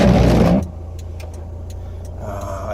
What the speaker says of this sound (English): And we got wipers.